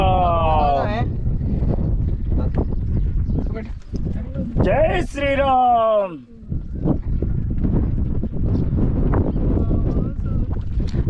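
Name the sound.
strong wind blowing into the microphone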